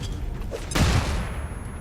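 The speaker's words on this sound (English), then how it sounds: "Let's go for a flashbang." A flashbang grenade going off in XCOM 2 Long War 2, a single sharp bang near the middle that rings out over a quiet, low ambient background.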